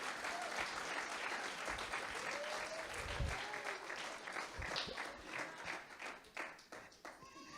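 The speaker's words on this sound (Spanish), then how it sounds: "Dale un fuerte aplauso al Señor." A church congregation at a worship service bursts into loud, sustained applause, dense clapping that fills the room steadily for several seconds, with a few voices faintly mixed in.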